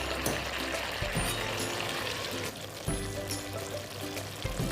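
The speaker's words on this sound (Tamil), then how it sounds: "லேசாக தண்ணி தொளிச்சு மூடிட்டு வேக வைங்க." Water sprinkled over chicken frying in a pan for a coriander green chicken dish, giving a steady sizzle and splashy pouring texture with a few soft clanks of utensils.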